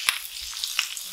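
Sliced ginger dropped into a hot pan of pork stir fry with spring onion, giving a bright continuous sizzle with a few sharp crackles and spatula taps.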